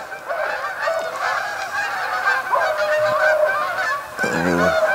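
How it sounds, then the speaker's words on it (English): A flock of geese honks repeatedly over a lake during duck hunting season, overlapping calls forming a loud, continuous chorus nearby. "nice flock of gooses."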